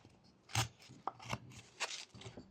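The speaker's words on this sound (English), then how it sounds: "I'm just twisting while pushing the knife away with this thumb" A knife whittling a small wooden crocodile from a 1x1 block, several separate scraping, shaving cuts spaced irregularly, close and fairly quiet, with no voice.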